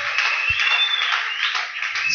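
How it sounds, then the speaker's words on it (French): A church congregation applauds, producing dense, continuous clapping that stays loud and steady for about two seconds, with a faint sustained tone running underneath. "Applaudissons fort le Seigneur"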